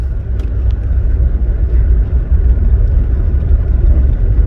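Old $100 pickup truck engine driving slowly, a loud, steady low rumble and droning hum throughout with no talking.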